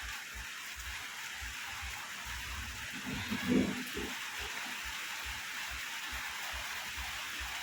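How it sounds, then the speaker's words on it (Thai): Steady rain falls outdoors during a storm, a broad even hiss throughout with faint low thumps and a brief louder swell midway, and no one speaking. "ฝนตกมันได้สองนาทีแล้ว"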